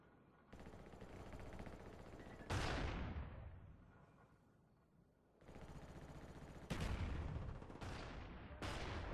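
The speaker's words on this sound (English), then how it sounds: "Watch how many bullets he sprays." Long sprays of automatic gunfire from a video game, loud and close, come in several sustained bursts separated by short lulls, with reverberant tails between them.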